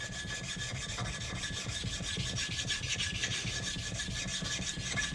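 Old gasket material is scraped off a Kawasaki KFX 450R cylinder head with a continuous, close, rasping rub in fast back-and-forth strokes, steady and loud throughout.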